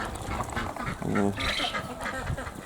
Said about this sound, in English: This is our bigger group of ducks that we keep in that roost in the duck run.